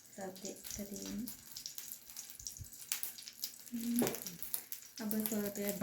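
Mustard oil heating in a pan sizzles and crackles in short bursts, set off by leftover moisture. The sound is soft and close, with a voice talking over parts of it.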